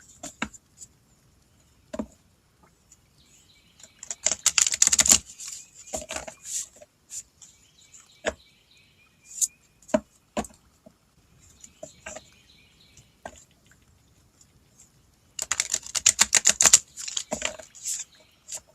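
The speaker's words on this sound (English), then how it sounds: "Not doing a very good job of shuffling today." Crisp riffling bursts of cards being shuffled, two longer flurries separated by scattered light taps and clicks, close and fairly quiet.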